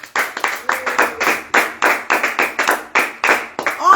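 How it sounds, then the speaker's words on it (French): People clapping for benefactors at a religious gathering, a group beating out sharp, close claps in a quick, uneven rhythm, about a dozen bursts in a row. "On applaudit pour les bienfaiteurs."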